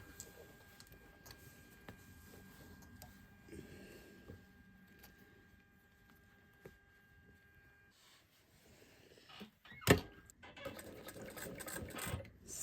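Sewing machine stitching a fly zip facing, running in faint, quiet bursts with rapid mechanical whirring, pausing between runs and then ending in a few louder handling knocks.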